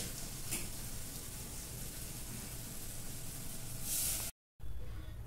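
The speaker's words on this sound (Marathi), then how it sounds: "हे सगळं एक जीव मिक्स करून परतून घ्या, चांगलं खरपूस खमंग भाजून घ्या" Modak filling of mixed ingredients sizzles and roasts in a pan, a steady broad frying hiss with faint stirring, close and continuous before a brief cut and a quieter hiss.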